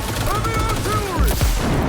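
Heavy gunfire rattles in the video game Cyberpunk, with loud bursts of rapid shots and booming impacts packed close together, and a voice sounding faintly beneath.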